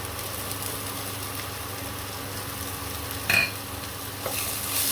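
Ginger garlic paste sautés with onions in a pan over a low flame, a steady close sizzle with a brief scrape of stirring, no speech.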